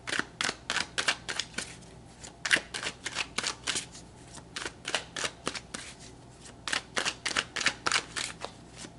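Tarot cards being shuffled and pulled from a deck: close, crisp bursts of riffling card snaps repeating in quick clusters throughout, with no talk.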